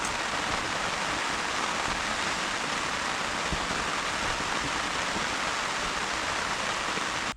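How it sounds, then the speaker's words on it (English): Rain falling steadily on a tent shelter, a dense continuous hiss at even loudness throughout, with no voices. "Rain's just come on, so I'm just hiding at the moment and having a wee drink."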